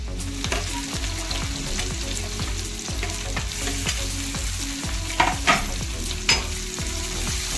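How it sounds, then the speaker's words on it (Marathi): Onion sautés in oil with asafoetida for a green peas aamti, sizzling loudly and steadily up close, with repeated rhythmic scrapes and a few sharper knocks of a spatula stirring against the pan. "कांदा पण चांगला आपल्याला परतून घ्यायचा आहे"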